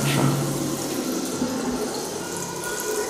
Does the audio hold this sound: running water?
yes